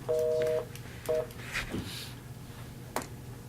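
Telephone keypad tones dial in to join a phone conference during a meeting: one long two-tone beep, then a shorter one, followed by soft room noise and a faint click.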